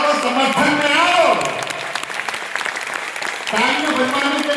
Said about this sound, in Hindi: अरे तालियां बजाओ तो समर्थन में आओ,